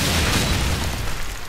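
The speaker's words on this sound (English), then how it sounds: "And get naded there. I didn't even see that nade get chucked there." A loud, close grenade blast in Call of Duty 4 during a team deathmatch, a single heavy boom with a rumbling tail that fills the brief moment.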